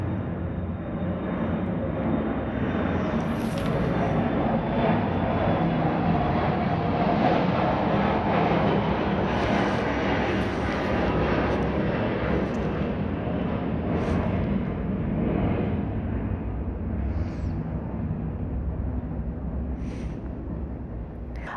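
An airplane passes overhead, a loud, continuous broadband roar of engines that holds steady throughout and eases slightly toward the end.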